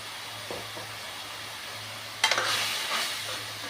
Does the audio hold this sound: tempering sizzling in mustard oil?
yes